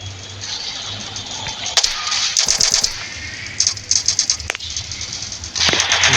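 Rapid bursts of gunfire from a naval warfare game in Roblox, several short volleys in quick succession over a hissy electronic background.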